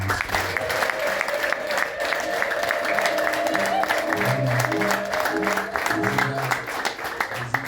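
A church congregation clapping together in a dense, sustained burst of applause, with voices mixed in beneath the clapping.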